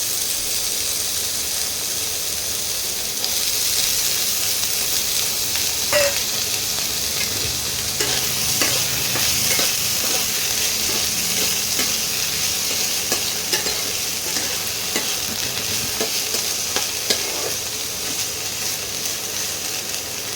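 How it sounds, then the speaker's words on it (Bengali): Small-cut potato pieces fry in hot oil, a steady close sizzle and hiss running throughout, with repeated scraping clicks as a spatula stirs them; no one speaks. "এবারে এই তেলের মধ্যেই একটা আলু ছোট করে কেটে রেখেছিলাম, সেটা দিয়ে দিলাম"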